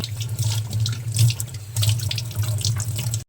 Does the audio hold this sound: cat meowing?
no